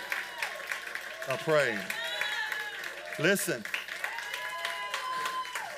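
A church congregation claps in praise during a worship service, a steady wash of crowd applause with voices shouting and calling out loudly over it.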